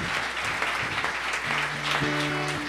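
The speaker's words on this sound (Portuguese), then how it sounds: "Aplauda Jesus." Church congregation clapping steadily throughout at moderate loudness, with a sustained organ or keyboard chord entering partway through beneath the applause.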